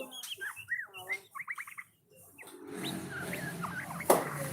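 A white-rumped shama (murai batu) calls with varied whistled notes and a quick run of repeated chirps, fairly close, then quieter calls come over background noise, ending with a sharp click.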